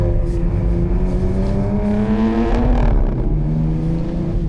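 A BMW M2 (S58) with an aftermarket exhaust revs hard under acceleration, its deep harmonic roar rising and sweeping in pitch, loud and close with no talking.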